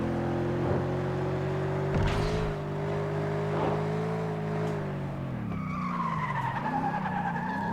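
Racing car engine in FlatOut 2 holding a steady high drone that shifts pitch as it changes gear, with tyre skids and squeals cutting through near the start and a rising whine toward the end, loud and continuous with no talk.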